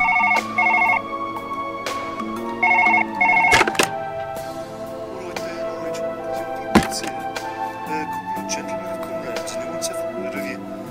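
A telephone rings in the Surgeon Simulator game, with two short bursts of electronic ringing followed by clunks and thuds, while game sounds carry on beneath.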